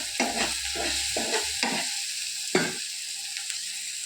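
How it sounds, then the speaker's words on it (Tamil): Onions and tomatoes sauté in a pan with a constant hiss, and a spoon scrapes through them in four or five rhythmic strokes, then the sizzle carries on alone. "வெங்காயம் தக்காளி நிறைய வதங்கணும்"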